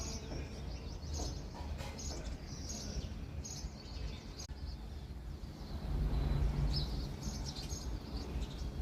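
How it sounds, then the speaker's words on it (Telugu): Faint bird chirps at sunrise come in scattered bursts over a steady low rumble, fairly distant and quiet throughout. "భలే ఉంటుందండి పక్షుల సందడి"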